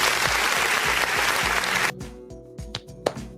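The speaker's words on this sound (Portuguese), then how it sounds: "Uma salva de palmas aqui para o Financial Times." A crowd claps in a dense burst of applause for a couple of seconds, then it cuts off, leaving a few scattered sounds.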